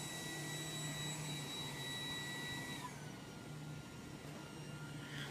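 An iRobot Roomba 980 robot vacuum runs with a steady whirring hum, then its high motor whine drops in pitch about halfway through as it switches to quieter eco mode, continuing at a lower, softer level.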